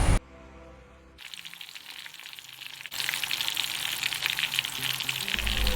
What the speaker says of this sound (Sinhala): දැන් අපි රත් වෙච්ච තෙල් තාච්චියට අපේ කරවල ටික දාගෙන බෙදගමු